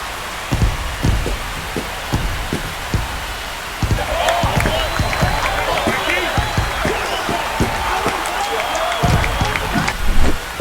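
Stadium crowd roaring and cheering after a home run in a PS5 MLB baseball game between the A's and Tigers, a broad sustained wash of noise swelling midway and persisting, with sharp thumps scattered throughout and a commentator talking over it.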